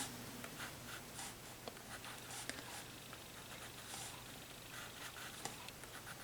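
Graphite pencil lightly shading on paper inside the curves of a drawn figure 8, a soft continuous scratchy scraping close up with small strokes and a low background hum.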